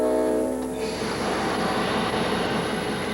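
A train driven by veteran engineer Orville Lanning gaining speed as it nears a bend, a loud steady rolling roar of wheels on rails with a whining tone fading early on, no voices.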